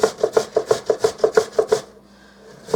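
Potatoes grated on the large side of a box grater, a steady run of about a dozen rhythmic rasping strokes, close and fairly loud, then a short quiet pause before one more stroke begins.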